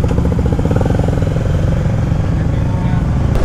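Engine of a Honda ADV scooter-style motorcycle being ridden through traffic, a close, loud, steady drone with a pulsing low rumble and wind noise throughout.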